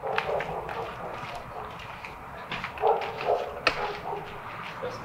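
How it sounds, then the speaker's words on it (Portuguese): An agitated dog barks and yips in short, scattered bursts through a noisy, busy outdoor scene, fairly distant and partly masked. "Esse cachorro tá agitado."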